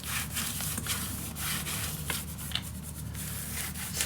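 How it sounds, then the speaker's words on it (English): Paper is burnished down by hand for a Halloween scrapbook mini album, a continuous soft scraping rub with repeated back-and-forth strokes, close and quiet, no voices. "let's burnish this down"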